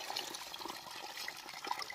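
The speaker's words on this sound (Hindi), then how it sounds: "ये देखिए गाइस निकल रहा है पानी, ये देखिए देसी स्टाइल में पूरा" Water gushes steadily out of a makeshift village water pipe, a continuous close splashing rush with no talk over it.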